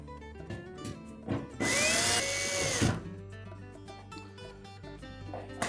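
A power driver runs in one sustained burst of about a second and a half, fastening retaining screws on a Whirlpool washer panel during a tub support repair. Quieter handling clicks come before and after it, close up.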